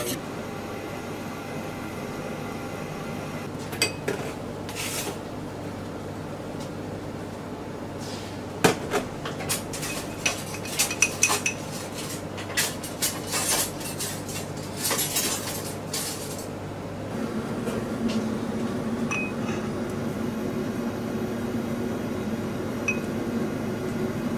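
Eggs whisked in a bowl for a soufflé: bursts of quick, rhythmic clinking of the whisk against the bowl, close and sharp, with calmer stretches and a steady background hum.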